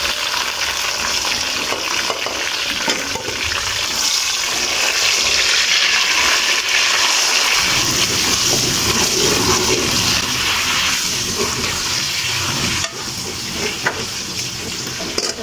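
Garlic and eggplant frying in a pan with a steady, loud sizzle that fills the whole clip; a tomato is added partway through, deepening the crackle and stirring sounds. No talking is heard.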